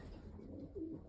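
Racing pigeons coo softly in a loft, a low murmuring call rising briefly near the end over faint background noise.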